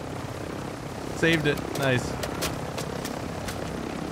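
A helicopter in Warzone 2 gives a steady rotor drone with rhythmic thumping throughout, while a player talks briefly over it amid other game sounds.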